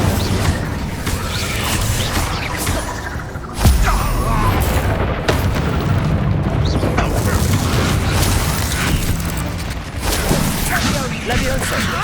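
Incendio fire spell cast repeatedly in the video game Hogwarts Legacy, with fiery bursts and booming impacts over a rumbling mechanical backdrop, one sharp loud hit near the middle and continuous crackling churn throughout.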